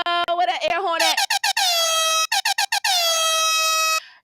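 Air horn blasts during a live hip-hop radio show, a brief voice at the start followed by a series of loud, sharp, rapid bursts and then one long sustained blare.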